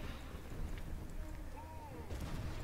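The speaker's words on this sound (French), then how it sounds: "Et là je vois déjà que les canons m'ont tiré dessus." Cannons fire in a Total War: Warhammer battle, a steady, heavy rumble of distant booming artillery blended into loud, continuous battlefield noise.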